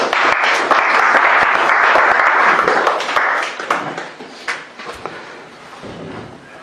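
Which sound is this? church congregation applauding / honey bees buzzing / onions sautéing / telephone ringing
church congregation applauding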